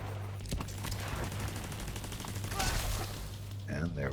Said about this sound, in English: Let my turret take him out if possible. Airburst, fire!